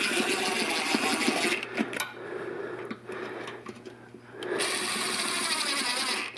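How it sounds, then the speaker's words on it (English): A small power gun runs Grade 8 quarter-inch bolts into an NSG370 transmission on a Jeep TJ, with a loud buzzing whir in two bursts around a quieter stretch holding faint clicks and rattles. "This gun will break off anything. I'm just running them in."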